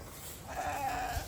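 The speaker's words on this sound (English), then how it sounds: "Let's go see the other sheep." A Valais Blacknose sheep gives a single drawn-out bleat at moderate distance, rising out of steady outdoor farm background noise with no talk.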